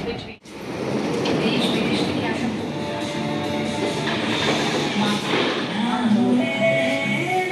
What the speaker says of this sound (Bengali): ট্রেন কিন্তু মেট্রো কিন্তু গতি কমিয়ে দিয়েছে